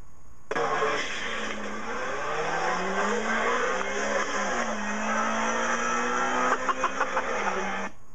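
Tango electric sports car accelerating hard, a loud, steady rising whine from the motor and tyres that holds for several seconds before ending with a few brief bumps.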